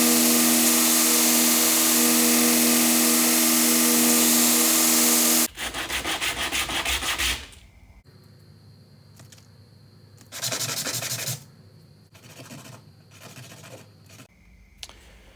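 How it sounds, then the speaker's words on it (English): A forged blacksmith knife is rounded and cleaned up on a grinder: a long steady whine runs first, then shorter bursts of abrasive grinding and rubbing broken by brief pauses. "So now we're just going to round it up and clean it up on the grinder."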